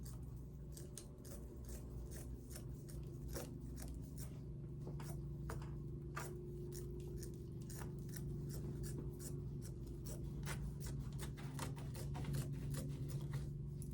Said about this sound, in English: And we're gonna cut this baby up down the middle. So I'm on the fold, I'm just cutting my fold open.